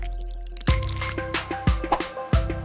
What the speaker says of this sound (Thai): หยดกาวลงไปนิดหน่อย